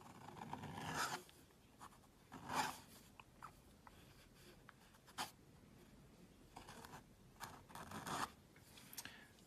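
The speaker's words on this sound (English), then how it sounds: "I'm just going to write a textualis letter" A calligraphy pen writes a textualis letter on paper, giving faint, close scratchy strokes that come in short separate bursts with quiet pauses between them.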